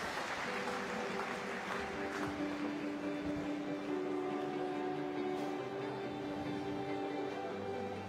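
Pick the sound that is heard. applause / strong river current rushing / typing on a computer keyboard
applause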